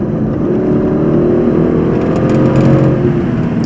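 A Jaguar XFR with a supercharged V8 accelerating hard, giving a loud, steady, deep engine roar heard from inside the car that holds strong for a few seconds without any talking.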